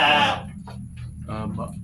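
Sheep bleating inside a livestock pen on a farm, one loud bleat up front followed by softer, shorter calls, with low background noise throughout.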